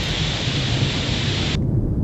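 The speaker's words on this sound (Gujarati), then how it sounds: "આજે વહેલી સવારથી જ ધોધમાર વરસાદ પડતા" A heavy early-morning downpour in Banaskantha, Gujarat, makes a dense, loud, steady hiss that cuts off abruptly near the end.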